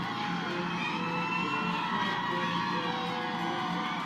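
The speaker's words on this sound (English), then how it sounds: "The crowd goes wild." Crowd cheering and whooping at Family Day at Fort Jackson, South Carolina, as relatives greet new soldiers; a steady, dense wash of excited voices with high shouts and whoops running throughout.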